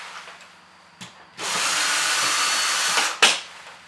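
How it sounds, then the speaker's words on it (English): A power drill backs screws out of a bathroom panel inside a converted bus, with a brief tap, then a steady whirring run of nearly two seconds, and a sharp clack as it stops. "we have to take the screws out of here"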